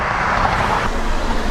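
Steady, dense traffic roar from cars moving fast along a wide six-lane city road, a continuous broadband rush heard close by with no voices over it.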